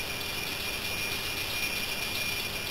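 A model railway train runs into a station on a home layout, producing a steady, continuous whirring rumble with a constant high hiss and no distinct clicks or pauses.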